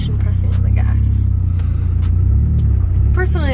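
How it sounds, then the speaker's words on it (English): A manual car's engine idles and strains steadily while reversing as the clutch is slowly let out, a loud low rumble close up throughout, with brief voice-like sounds near the end. "we're gonna go slowly letting off the clutch and pressing on the gas."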